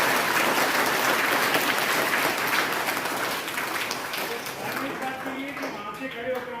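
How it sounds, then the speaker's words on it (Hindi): An audience claps for participants at a Sehgal company staff social-service session. The applause is steady and dense, loud at first and then tapering gradually toward the end. "तालियां बजाओ इनके लिए।"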